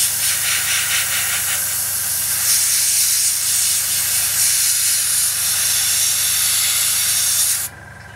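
An airbrush sprays paint onto a 1/48 scale Tamiya Spitfire Mk.1 model, a steady, close, airy hiss that surges slightly in bursts and then cuts off abruptly near the end.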